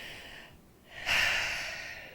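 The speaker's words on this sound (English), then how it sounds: "Deep breathing." A single deep breath, a soft inhale followed by a louder, breathy exhale, heard close and alone with no talking.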